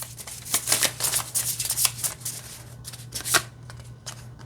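Oracle cards being shuffled in quick riffling bursts, crisp and close, repeating several times with short pauses between, over a faint steady hum.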